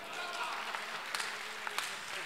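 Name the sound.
audience applause at poetry recital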